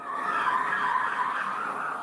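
Car tires squeal in a sustained, steady skid as the vehicle pushes into a police car, loud and unbroken for the whole stretch.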